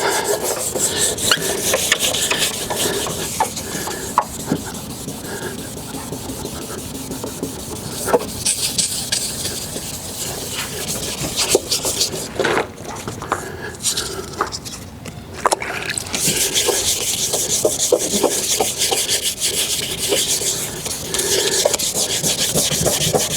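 Sandpaper rubbing back and forth across a foggy plastic car headlight, worked in vertical strokes, giving a steady close raspy scraping with a brief dip in the middle.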